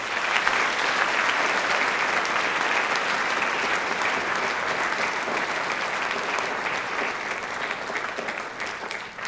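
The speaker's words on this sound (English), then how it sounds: "Let's have a round of applause for his family," An audience at a high school Veterans Day program gives the guest speaker's family a sustained, loud round of applause. The dense, even clapping continues for more than nine seconds, with no talk over it.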